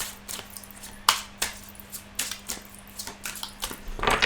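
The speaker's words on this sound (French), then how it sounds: "on va mélanger les cartes avec l'oracle Xavam" Oracle cards being shuffled by hand, giving a series of crisp, papery flicks and snaps at an irregular rhythm, close and fairly quiet, with a low steady hum underneath and no talking.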